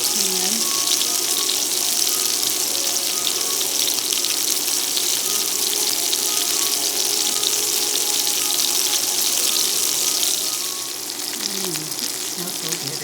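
A skillet is washed under running tap water, a steady rushing hiss of water into the sink. It continues for about ten seconds, then drops slightly as the flow changes, with faint kitchen clinks underneath.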